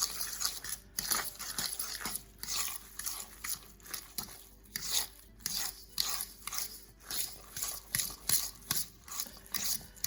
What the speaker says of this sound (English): Right now I'm using a fork just to do it. Mix that in roughly.